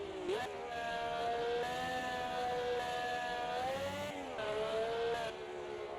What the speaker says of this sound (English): Man, car's just sliding.